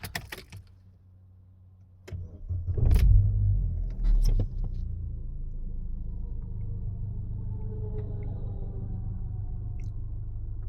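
A 1.8 car engine with 350,000 km on it and an LPG system, running rough, cranks and catches, revs briefly, then settles into a steady low idle rumble that continues on its own, close to the microphone.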